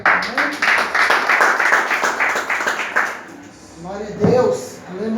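A church congregation claps in a steady rhythmic beat during a service, loud and close, with voices singing and talking along before the clapping fades into speech.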